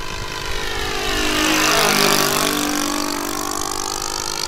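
A 1/4 scale Klemm L20 model plane's engine idles through a flyby, a steady buzzing drone that swells as the aircraft passes closest and then eases off slightly as it moves away.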